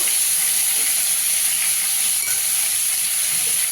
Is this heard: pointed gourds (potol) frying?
yes